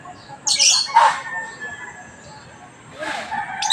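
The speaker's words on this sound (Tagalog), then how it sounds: "Lalo na ibon yung kapitbahay namin." A neighbour's bird lets out two or three loud, harsh squawks close by, spaced apart with quiet gaps between them.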